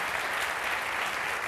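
A room full of people at a business gathering claps together, a steady dense wash of applause that holds evenly and fairly loud for the whole brief moment.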